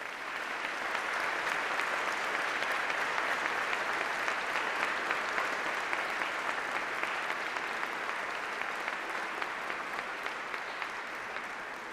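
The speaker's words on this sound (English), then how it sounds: "shall we have a round of applause for all those special people who are celebrating here with you today?" A long, steady round of applause from the audience at a UCLan university graduation ceremony, even and sustained from start to finish at moderate distance.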